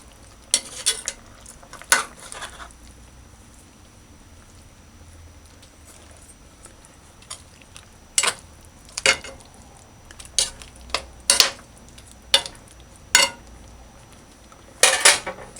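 Pieces of curried fish are turned in a pan, with scattered sharp clinks and scrapes of utensil against metal spaced over quiet background sizzle.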